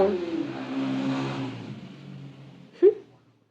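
A motorbike engine roars past quickly, its pitch sliding down as it goes by and fades, followed by a brief sharp knock.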